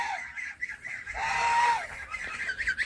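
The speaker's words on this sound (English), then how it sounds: "here's the baby geese" Young geese giving a few short, reedy honks and peeps close by, with a longer call in the middle and faint background rustle.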